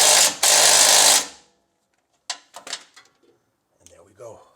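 An impact wrench rattles loudly in two close bursts while tightening a bolt during a neutral safety switch replacement on a Nissan Frontier, followed by quiet metallic handling clinks and a brief voice.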